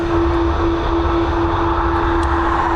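A Ryanair jet airliner's engines spool up for departure at Dublin Airport, a loud, steady roar with a sustained tonal whine held across the whole stretch, no voices.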